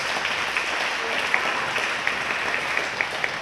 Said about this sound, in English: Please join me in applause for tonight's state officials